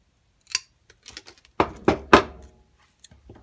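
Channellock linesman pliers snap through a piece of plastic in three sharp, close cuts in quick succession, preceded by a few faint clicks of the jaws being handled.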